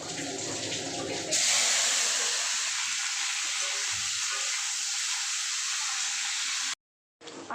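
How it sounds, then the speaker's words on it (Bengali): Okra drops into hot oil in a kadai, setting off a loud, steady frying sizzle with a dense hiss that holds for several seconds before cutting off abruptly near the end. "কড়াই বসিয়ে দিয়েছি, তেল গরম হয়ে গেছে। এবার দিয়ে দেবো ভেন্ডি।"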